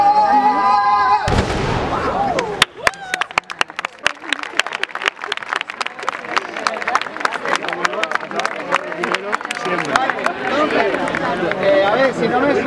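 Blank gunshots fired during a film stunt demonstration at an occupational risk prevention conference, a rapid irregular barrage of sharp cracks with scattered crowd noise and people talking, loud and echoing in a large hall.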